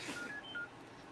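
A few short electronic keypad tones from a phone that is not muted beep in quick succession, faint and thin against a quiet room.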